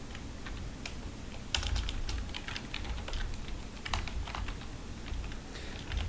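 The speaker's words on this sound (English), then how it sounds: "And then we'll just go right here and type in, this will be the context." Quiet clicking of a computer keyboard while coding a Python FastAPI and HTMX web app, with irregular bursts of keystrokes and short pauses, fairly soft and close, no talking.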